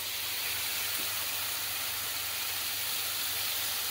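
Bacon frying in a hot pan alongside burgers: a steady, dense hiss and crackle holds at an even level from start to finish, close and unbroken, with no talk.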